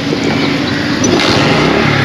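A motorcycle on a flooded street in Karachi's Administration Society fires up and runs, its loud, close engine holding a steady rumble for the whole stretch.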